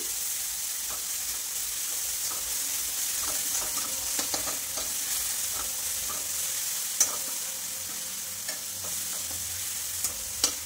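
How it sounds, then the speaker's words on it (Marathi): Green chilli, garlic and ginger sautéing in a pan, a constant close sizzle and hiss with occasional light clicks of a stirring spoon. "चांगलं परतून घ्यायचं हे."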